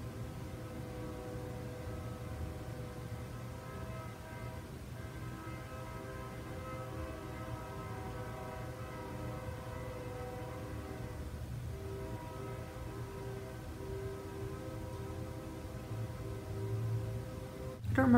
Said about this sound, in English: that train horn just went on for 3 minutes.